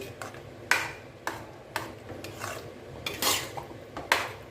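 A spoon scrapes and clinks against a metal pot of boiling vatha kuzhambu in a run of uneven stirring strokes, close and fairly loud, with no talking.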